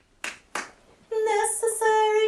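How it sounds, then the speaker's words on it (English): Two crisp, separate hand claps ring out close and alone, then a group of family singers comes in with a sustained, harmonised sung phrase. "And it gets clapping."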